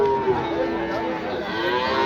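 A cow at a busy cattle market gives a loud, sustained moo that runs through the whole stretch, close to the listener, with crowd noise faintly behind and no talk over it.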